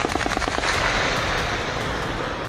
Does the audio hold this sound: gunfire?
yes